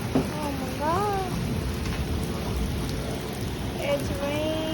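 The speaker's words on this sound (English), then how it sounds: "It's raining" Heavy rain pours down in a steady, dense wash of noise, with excited voices exclaiming over it at intervals.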